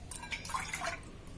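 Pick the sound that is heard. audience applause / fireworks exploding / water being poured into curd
water being poured into curd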